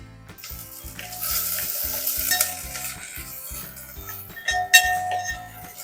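Green chili and ginger-garlic paste sizzling in a pan with onions, a bright frying hiss with stirring scrapes and a sharp clink near the end, over soft background music.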